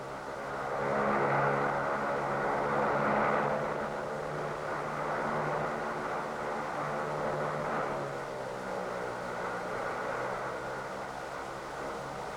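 OV-1 Mohawk military turboprop observation aircraft heading home, a steady droning engine hum with low harmonic tones that swells slightly early on and holds at moderate level throughout, no voices.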